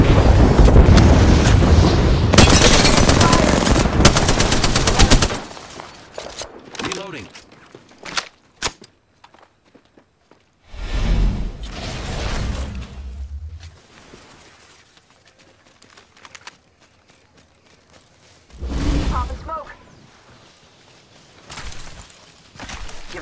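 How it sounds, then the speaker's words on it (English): Air strike explosions and gunfire in the Apex Legends video game: a long, loud, dense barrage of booms for the first few seconds, then scattered sharp bangs, and two further heavy blasts later on, with talk in places. "There is an air strike on our position."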